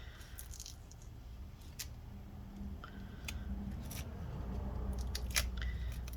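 Adhesive strips being peeled slowly from inside a 13-inch Retina MacBook Pro A1502 (mid 2017) during a battery replacement give a quiet, close, crackling tear with scattered sharp little snaps.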